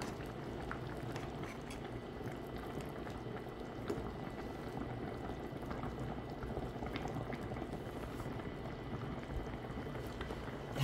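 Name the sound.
stew boiling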